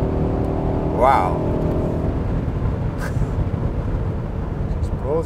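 A 2022 BMW X6M Competition SUV engine pulls hard under heavy acceleration, a steady loud drone with rising tones, heard from inside the cabin with a voice exclaiming over it.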